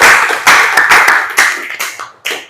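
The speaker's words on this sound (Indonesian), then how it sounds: "Oke, tepuk tangan buat jawabannya." Classroom hand clapping during a high school physical education lesson, a short burst of several close claps with uneven rhythm that trails off, then one final clap.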